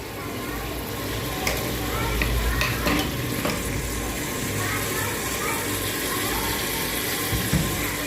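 Vegetables fry in a pan with turmeric while a spoon stirs them, a continuous close sizzle broken by scraping, clinking strokes against the pan, with people talking over it.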